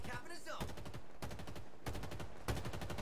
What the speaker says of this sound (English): I shot him a bunch of times.